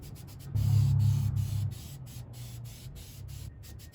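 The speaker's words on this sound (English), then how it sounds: "as far as how we're gonna spray this, essentially we're gonna do it the same way as we did the primer and the color" Light first coat of spray paint going onto Dodge Viper valve covers, a soft hissing burst lasting about a second, then a fainter trailing spray, close and quiet with no talk.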